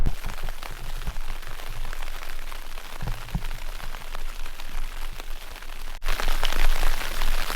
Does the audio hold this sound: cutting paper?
no